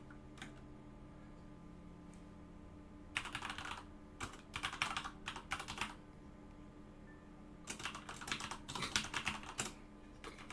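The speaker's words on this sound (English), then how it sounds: "I'm worried by the typing." Quiet computer keyboard typing comes in two bursts of rapid, irregular key clicks separated by short pauses, close and alone over a faint steady hum.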